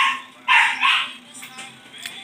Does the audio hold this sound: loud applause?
no